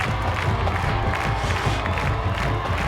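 A sellout high school football stadium crowd at Johnny Hill Stadium cheers and roars steadily as the Lexington High School Tigers rush onto the field, a dense, continuous wall of voices with scattered shouts and clapping.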